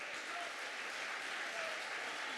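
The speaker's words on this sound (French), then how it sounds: "Pas besoin de vous demander d'applaudir" An audience at the final of a business-school eloquence contest in Nancy applauds steadily, a dense, even wash of clapping that holds without pause throughout.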